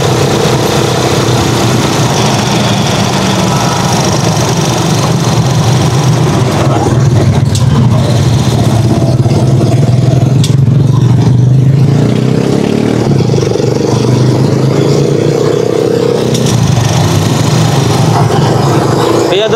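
A Rusi Chariot 175 motorcycle engine running on 91-octane fuel, a steady loud idle with a low throbbing hum that rises and dips slightly in revs throughout, close to the machine.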